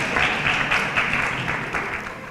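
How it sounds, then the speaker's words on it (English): An audience claps hands at a talk on electing more women and people of color to public office; steady, dense applause fills the room throughout and tapers slightly at the end. "you were clapping hands right now"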